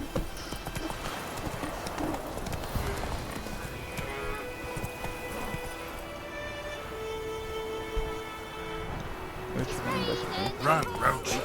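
Roach the horse gallops in The Witcher 3, hooves clip-clopping in a steady, close rhythm that continues throughout, with game ambience and occasional voices mixed in.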